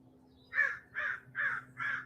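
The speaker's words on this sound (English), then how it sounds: "And the birds have just begun again." Crows caw outdoors: four loud, evenly spaced calls over about two seconds, with a steady low hum beneath them.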